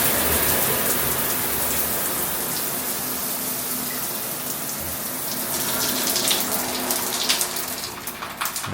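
Water gushes steadily out of an opened Delta shower valve after the supply has been shut off upstairs, a dense, continuous hiss and spatter that holds loud throughout and swells slightly near the end.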